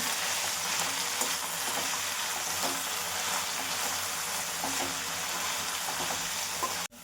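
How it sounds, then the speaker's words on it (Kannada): Mint and coriander fry in hot oil in a pan, a loud, even, hissing sizzle close by with a few faint stirring knocks, ending abruptly. "ಪುದೀನ, ಕೊತ್ತಂಬರಿ ಮತ್ತು ಚೆನ್ನಾಗಿ ಫ್ರೈ ಮಾಡಬೇಕು"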